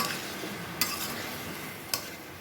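Onion, garlic and ginger paste sautéing in a pan for a snakehead fish and bottle gourd curry, with a continuous soft sizzle and two brief sharp spatula taps.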